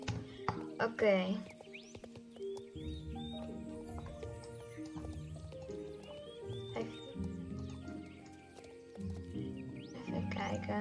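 Horses on an outdoor ride without saddles give a clear whinny early on, followed by hoof clip-clops and snorts close by, with people talking throughout.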